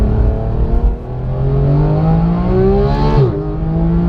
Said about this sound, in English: That revving that high and that experience of just hearing it